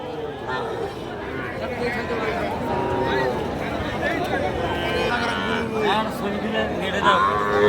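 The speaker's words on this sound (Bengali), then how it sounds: "সুন্দর সুন্দর কোয়ালিটি সম্পন্ন বর্ডার ক্রস ষাঁড় গরু" Border cross bulls at a busy rural cattle market near the border, lowing and mooing repeatedly over a dense crowd of chattering buyers and sellers, with people talking close by throughout.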